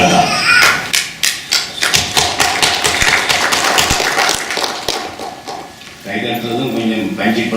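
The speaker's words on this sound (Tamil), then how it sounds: "கைதட்டுறதும் கொஞ்சம் பஞ்சிப்பட்டுதான் தட்டுறீங்க," Sparse, thudding claps from a hall audience at a Tamil book launch, landing as separated, uneven hits that slowly thin out before a voice takes over near the end.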